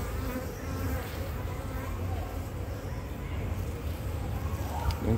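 Honey bees in a beehive buzz densely around a frame lifted from a mini hive in an apiary. The swarm drones continuously and close by, forming a thick, steady hum throughout.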